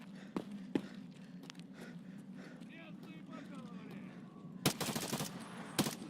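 Gunfire in the video game Escape from Tarkov: a few isolated sharp shots, then a dense burst of rapid fire near the end, all under a steady low game hum and background noise.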